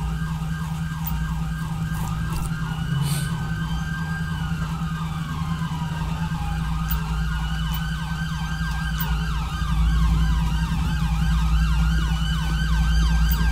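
Wailing ambulance siren from the video game GTA V during a police patrol scene in Paleto Bay, steady and continuous with sweeping rising and falling tones over a low engine drone throughout.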